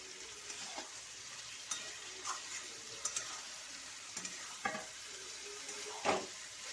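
Aloo posto with turmeric sizzles faintly in a pan as a utensil scrapes and stirs it in irregular strokes, soft clicks and scrapes rising over a quiet, steady frying hiss.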